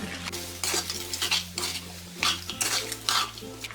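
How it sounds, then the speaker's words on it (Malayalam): Crab with tomato masala stirred in a pan with a metal spoon, repeated scraping and clinking strokes over a light sizzle, close and fairly loud with no talking. "ഇനി ഇത് നന്നായിട്ടൊന്ന് ഇളക്കി മിക്സ് ചെയ്തെടുക്കാം."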